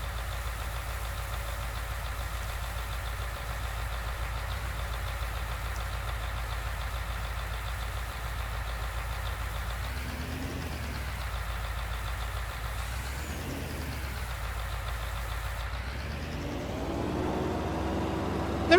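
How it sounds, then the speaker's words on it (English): A small dump truck mod in Farming Simulator 19 idles with a low steady engine rumble, briefly revving in a couple of swells before rising toward the end. "Never used this before, this wee dump truck. It's quite a nice mod. I like the sounds of it."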